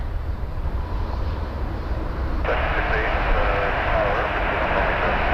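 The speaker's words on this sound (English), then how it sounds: "And we got a KLM. Okay, Max 8, take a break. KLM 787-10 Dreamliner." A KLM Boeing 787-10 Dreamliner roars at Toronto Pearson airport, a steady broadband jet rumble that swells suddenly louder partway through, with someone talking over it.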